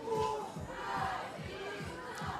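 Ukrainian fans and ladies cheering at a 3x3 basketball game at the FIBA 3x3 U17 Europe Cup, a faint, distant crowd roar with scattered shouts and rhythmic chanting under the arena ambience.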